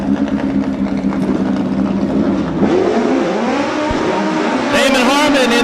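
Volkswagen Pro Stock drag cars do burnouts at a drag strip, loud engines revving and roaring with rising pitch sweeps and tire screech near the end, under a track announcer's voice.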